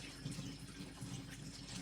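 Neutral 7.0 water runs from a dispenser tap in a quiet, steady splashing stream, faint and continuous with slight gurgling fluctuations.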